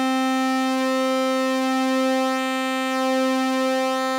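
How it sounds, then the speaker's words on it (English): A steady buzzy synthesizer square wave holds one pitch, its timbre slowly shifting and thinning as pulse width modulation changes the waveform, alone and fairly loud. "So if we start with a sine wave here and increase the pulse width modulation"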